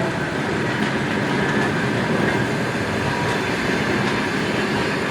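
A ChS8 electric locomotive hauls passenger train 090K, Zhmerynka to Moscow, at a Kyiv station platform, giving a steady, loud rolling rumble with faint clickety-clack of wheels throughout and no voices.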